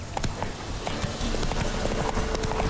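In The Witcher 3: Wild Hunt, a horse gallops with a steady, rapid clip-clop of hooves over the game's ambient sound. The hoofbeats are fairly loud and continue throughout.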